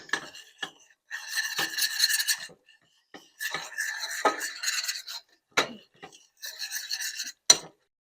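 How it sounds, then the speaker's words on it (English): A spoon scrapes and rasps against a pan while stirring a thickening, clumpy mixture for shaobing, coming in repeated short bursts with brief pauses between strokes, close and fairly quiet. "I'm just still stirring this"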